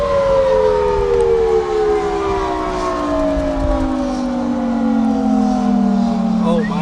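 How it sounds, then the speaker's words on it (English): Tornado warning sirens sound during a March tornado outbreak in Wheatfield, Indiana, a loud, steady wail that slowly falls in pitch over several seconds. "Why do they stop the sirens?"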